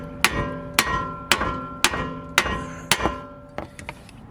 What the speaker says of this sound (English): you want to hammer around this area right here